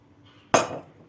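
Chopped red beetroot poured from a bowl onto salad greens in a dish, a single sharp clattering tumble with a light clink that quickly fades in a quiet kitchen.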